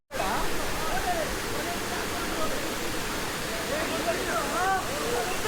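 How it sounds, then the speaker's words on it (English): Kaigal waterfall near Bangalore roars as a constant, loud, broadband rush of falling water, with faint distant voices and chatter from visitors mixed beneath it. "So here is one more waterfall."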